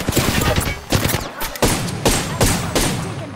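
Rapid gunfire in the Apex Legends shooter, a string of sharp, loud shots and bursts at uneven intervals, some close and punchy with a few heavier blasts spaced about a second apart, with no talk over them.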